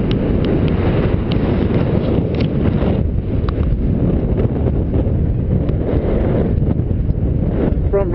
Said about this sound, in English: It's proper windy. Get a proper crosswind.